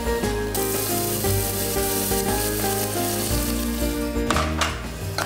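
Onions sizzling and frying in heated oil for a soya and potato bake, a steady loud crackle throughout with music playing underneath.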